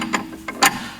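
A ratchet tightens the rear shock absorber bolt on a 2005 VW Touran, giving a few quick, close metallic clicking bursts separated by short pauses.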